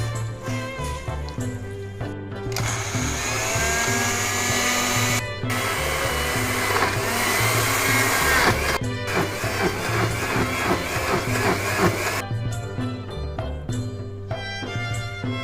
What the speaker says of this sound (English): Put all the ingredients in the blender.